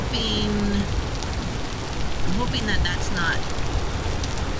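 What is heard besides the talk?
rain falling in the video game Vintage Story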